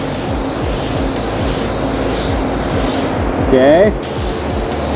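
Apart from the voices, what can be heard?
Sagola Mini Xtreme spray gun spraying paint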